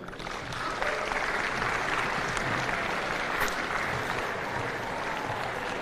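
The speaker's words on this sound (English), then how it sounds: "I would like all of the players to do a big round of clap for all of those people" Youth basketball players at an under-17 national championship give a steady round of crowd applause for officials and organizers. It rises quickly and stays loud and even throughout the indoor venue.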